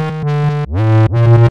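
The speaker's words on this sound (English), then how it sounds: "This is what the 808 is gonna sound like without any external effects." A dry, distorted 808 bass plays three sustained notes, the later two sliding upward in pitch, loud and punchy with no added effects.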